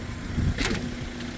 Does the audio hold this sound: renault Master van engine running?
yes